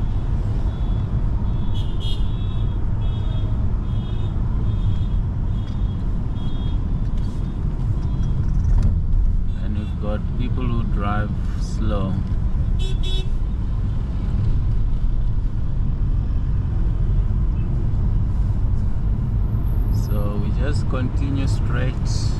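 Busy Johannesburg city traffic in the rain: a continuous low rumble of many cars and trucks, with repeated reversing beeps early on and occasional voices nearby.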